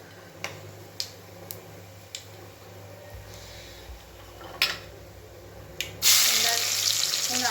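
Steady frying sizzle of onions in hot oil, with scattered sharp ticks and clinks, then a louder burst of hissing sizzle near the end.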